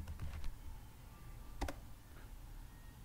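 A few quick keystrokes on a computer keyboard typing ODBC in a quiet room, faint clicks in two short clusters.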